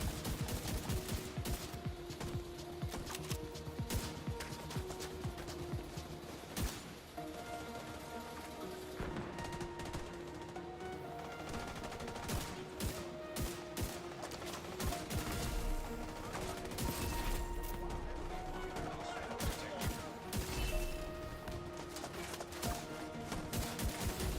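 Gunfire in The Division 2, rapid bursts and single shots cracking repeatedly over game music and effects throughout, fairly busy and continuous.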